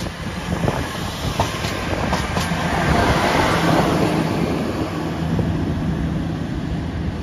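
A passenger train rumbles past steadily in the West Midlands, England, a continuous loud roar of wheels and rail noise with faint clattering, no voices.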